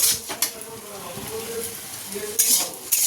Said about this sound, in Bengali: আর রাতের জন্য আলু ভাজা বসিয়েছি